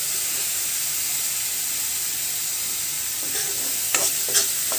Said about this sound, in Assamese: মই পিঁয়াজৰ পেষ্টখিনি লৰাই থাকিম যেতিয়ালৈকে পেষ্টখিনি ৰঙা নহয়।